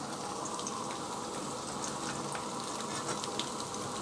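Chicken with potatoes, cauliflower, red pepper and green peas frying in a pan for sweet and sour chicken, a steady close sizzle and crackle that runs evenly throughout with no talking.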